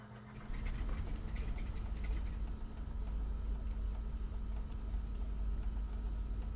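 A de Havilland Beaver floatplane's engine in a flight simulator game runs as a loud, steady low drone. It settles into an even, continuous rumble after a brief quieter start.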